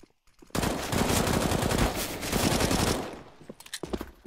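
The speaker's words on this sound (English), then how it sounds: "Does come out, does spot Markelov, reacts with the headshot." Rapid automatic gunfire in the game CS:GO during a match on the Cache map, a dense continuous burst of shots lasting a few seconds before trailing off into scattered sounds, loud and close, with no commentary over it.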